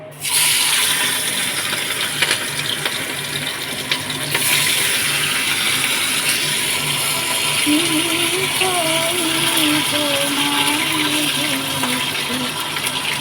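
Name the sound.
hilsa fish frying in hot mustard oil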